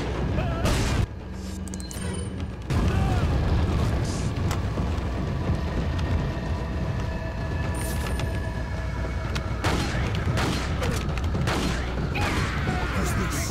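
A grenade blast in the video game Resident Evil 4: a sudden loud boom at about three seconds, then a dense, rumbling wash of game combat noise with scattered sharp hits and crackles that stays loud to the end.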